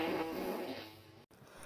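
A woman's fart, close and fairly quiet, comes as one drawn-out rumble that ends in a brief moment of silence before a faint tail of sound.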